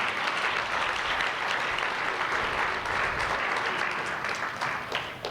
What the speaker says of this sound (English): please stand and take their appropriate round of applause